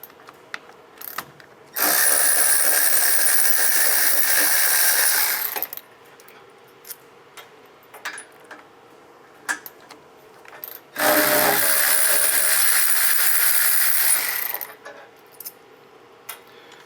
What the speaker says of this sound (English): You will then take a 19mm socket, remove these two bolts